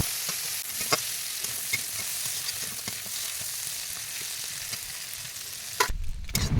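Prawns fry in mustard oil in a pan for a village Bengali echor chingri dish, a steady close sizzle with scattered stirring scrapes and pops, swelling into a louder burst of frying at the end.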